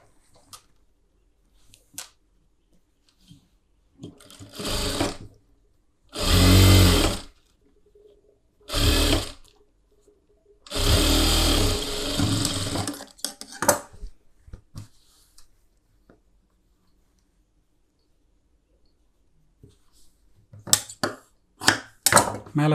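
A sewing machine stitching a collar-neck blouse runs in short bursts of a few seconds each, with quiet handling sounds and pauses between runs.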